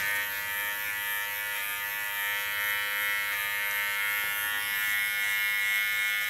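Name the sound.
hair clipper cutting a bob hairstyle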